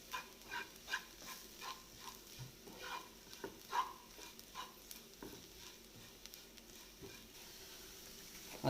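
Clam meat sautéing with chili and coriander powder in a pan, soft sizzling under repeated spoon stirs and scrapes, fairly quiet and close with no talk.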